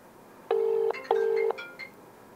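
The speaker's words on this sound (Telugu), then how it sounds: "సునీల్ కాల్ రింగ్ అవుతోంది" A phone ringback tone for an unanswered outgoing call sounds two steady, clear beeps, each under half a second long, with a short gap between them, followed by faint higher tones. The tones are close and loud, and nobody talks.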